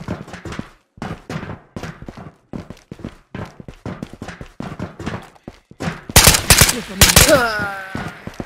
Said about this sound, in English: Somebody shooting in.